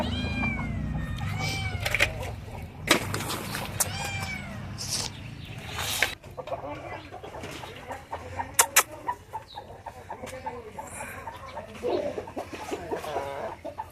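Bhimavaram breed breeding hens on a poultry farm cluck and call, with repeated overlapping cries and squawks close by against a noisy farmyard background.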